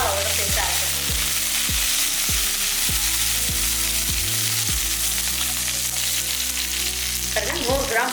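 Coriander sautéing in a hot pan for a Tamil chicken kola urundai kuzhambu, a steady loud sizzle with repeated clattering stirs and scrapes all the way through, and no voices.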